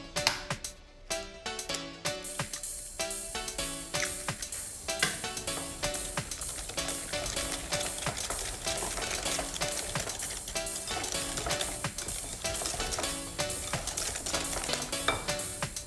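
Eggs being mixed one at a time into banana cake batter, a steady clatter of metal against a bowl with clinks and scraping that runs continuously throughout.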